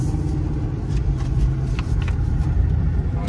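A 2003 Mercury Marauder with a 32-valve V8 pulls away under throttle, its deep engine rumble steady and close from inside the cabin, rising slightly as it gathers speed, with road noise and no talking.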